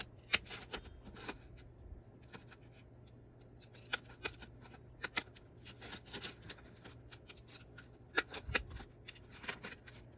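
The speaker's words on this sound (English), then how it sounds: "I'm going to come in and use these fun scissors, and I'm going to go around the outside." Sharp, irregular snips of scissors cutting paper, close and crisp, coming in quick clusters with short pauses between.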